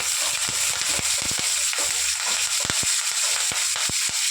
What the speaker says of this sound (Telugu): వేసేసి ఫ్రై చేస్తాను ఇప్పుడు దీన్ని.